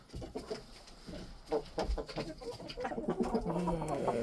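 Backyard hens cluck and coo softly nearby, a steady murmur of overlapping calls that grows a little busier toward the end.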